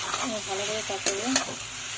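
Spices being sautéed and stirred in a hot pan for a village-style singi and shol fish curry, with a steady sizzle and a few scraping stirs, while a voice talks briefly over it.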